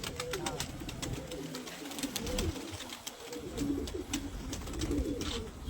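Racing pigeons cooing in low, rolling phrases near the microphone, with sharp ticks and outdoor background noise throughout.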